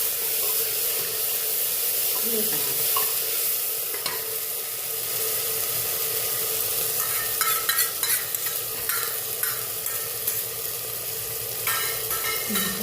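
Onion, cumin, ginger and garlic hit hot oil in a pan and sizzle with a loud, steady hiss, with bursts of crackle and a few stirring scrapes close up throughout.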